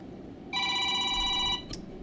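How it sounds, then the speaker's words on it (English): An electronic telephone ring sounds for about a second as one steady, buzzing multi-tone trill, close and clear over a low background hum, followed by a brief chirp. "I have a phone call."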